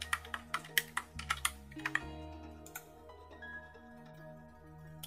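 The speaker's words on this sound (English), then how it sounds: "I'll get the molecular formula of potassium hydroxide by typing it into this chemical GUI" Keystrokes on a computer keyboard as a chemical formula is typed into chemistry software: a quick burst of loud clicks for about two seconds, a couple of scattered taps after, then quiet, with no talking.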